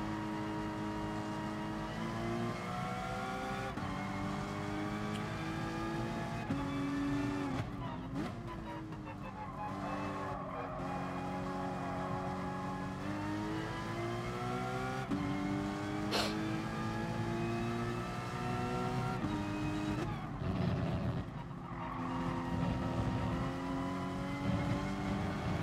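A Ferrari 355 engine drones and revs in the GT Sport racing game, continuous and loud with rising and falling pitch through gear changes, and brief dips between shifts.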